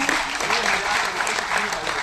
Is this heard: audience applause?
yes